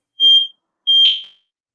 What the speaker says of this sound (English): Who's got the fire alarm going off?